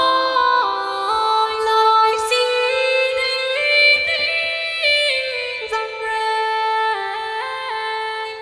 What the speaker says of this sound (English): the Marie Ork is a clean female voice, or dirty, but sounds like this.